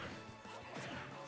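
A punch lands in a Super Smash Bros. Ultimate match between Wii Fit Trainer and Fox, a short, punchy impact sound amid dense game noise, brief and fairly loud.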